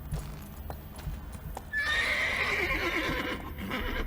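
In The Witcher 3 video game, a horse's hooves clop steadily before a loud, close neigh rings out midway, followed by further stamping and snorting, with no talking.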